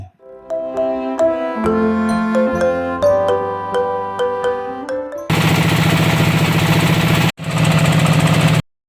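A trawler boat's engine running on the crossing from Saint Martin's Island to Chhera Dwip in Bangladesh: after a stretch of chiming melodic music, a loud, steady, close engine drone takes over, dropping out briefly before resuming.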